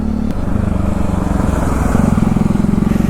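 A motorcycle ridden on a mountain road gives a steady, loud engine drone with rhythmic pulsing and rushing wind noise, close and continuous.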